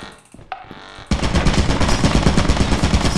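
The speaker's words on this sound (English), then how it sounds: "I died to the turret, bro." Rapid automatic gunfire from a turret in the video game Lethal Company, a dense loud burst that starts after a second of quieter game ambience and continues steadily to the end.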